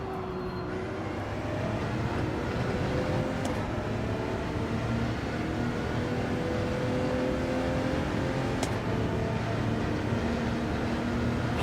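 An Audi race car in Gran Turismo 7 accelerates down a straight, its engine holding a steady, sustained drone with rising tonal pitch lines, loud and continuous.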